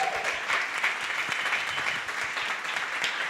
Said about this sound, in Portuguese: eu queria pedir uma salva de palmas para o André, por favor.